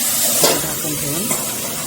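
Sliced bitter gourd sautés in a pan over low heat, a steady close sizzle and hiss with faint stirring movement throughout.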